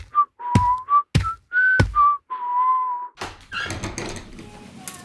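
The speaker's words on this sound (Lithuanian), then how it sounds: "Manė savo Aleksandras ir laimingai švilpiniavo pro ūsus," A man whistles a cheerful tune, first in several short clear notes and then in longer held ones, close and loud. Bright clattering and shuffling sounds follow at the end.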